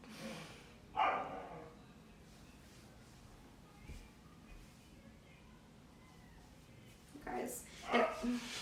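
A small puppy lets out a few faint, short barks, one burst near the start and a couple more toward the end, with quiet breathing and snorts between them in a calm indoor setting.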